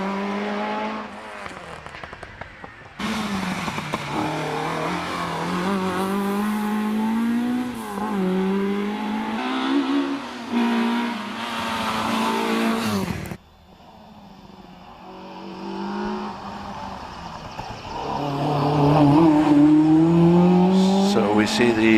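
Peugeot 106 climbing the Prescott hill climb course, engine note rising and falling through gear changes over about twenty seconds, loud and fairly close, with a commentator talking over it throughout.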